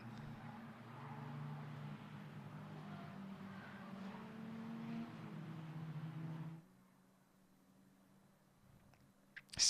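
A Caterham race car at Donington drones steadily while warming its tyres behind a safety car, with a loud sustained engine note that drops away abruptly after about six and a half seconds, leaving quiet background.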